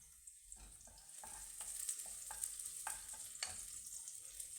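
Rice frying in a pot for Haitian-style rice, a soft continuous sizzle with crackles and occasional scraping stirs, quiet and close, no voices.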